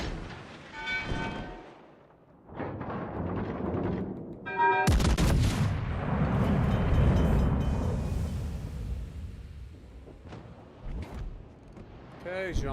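Naval gunfire and incoming shell impacts in World of Warships Legends, heavy booming blasts followed by a long rumbling roar, loud and close, with a voice speaking in short bursts before and after.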